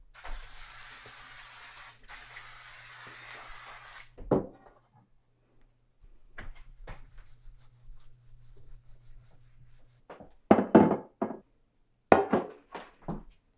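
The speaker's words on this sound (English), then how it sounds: "On to greasing the pans." Two long hissing bursts from a can of cooking spray, then scattered clinks and rubbing of metal baking pans being handled.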